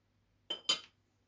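A spoon clinks twice against a bowl while kefir is stirred with baking soda: two quick, close metallic taps in an otherwise quiet room.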